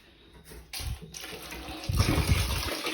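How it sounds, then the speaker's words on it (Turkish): Water gushes from a tap to fill for a shower, starting in short bursts and then flowing strongly, close and splashing. "Ben hemen bir duş suyu doldurayım."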